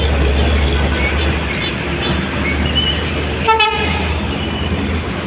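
A Harapan Jaya bus pulls away from the Cikarang agent on a busy roadside, its loud engine and road noise filling the scene as a brief multi-tone horn blast sounds partway through.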